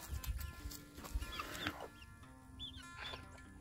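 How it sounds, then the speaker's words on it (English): Chicks and chickens hatched in a refrigerator incubator cluck and peep softly close by, in scattered short calls over faint background noise. "Look at all them chickens."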